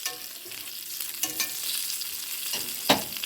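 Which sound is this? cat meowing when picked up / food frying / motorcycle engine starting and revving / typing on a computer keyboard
food frying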